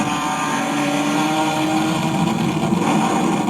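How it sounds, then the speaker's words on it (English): Exhaust of a BMW dressed up with M3 CSL parts, a steady loud engine drone with a rising, revving edge, heard close on crowded city streets during street racing. "You can hear his exhaust."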